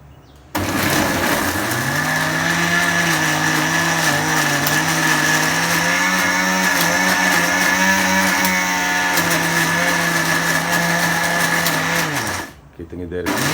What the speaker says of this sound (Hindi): ये मिक्सी चलाने के लिए तैयार की जा रही है।